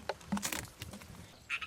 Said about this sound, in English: We hear the frogs, they love it.